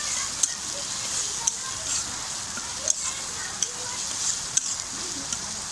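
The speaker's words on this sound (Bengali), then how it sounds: "একই কড়াইয়ে আমি পেঁয়াজ কুচি আর তেজপাতা দিয়ে দিয়েছি।" Chopped onion and bay leaves frying in a kadai for egg curry, a steady sizzle with scattered sharp pops and clicks; rain may be falling nearby.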